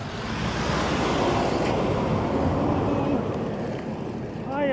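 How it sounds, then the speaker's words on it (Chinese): Trucks pass on a road during a windy ride through open country, making a loud, continuous roar of traffic and wind rush that fills the whole stretch and eases slightly at the end. "哎呀，这货车有点多"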